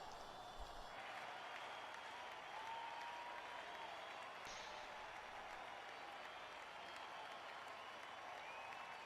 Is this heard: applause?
yes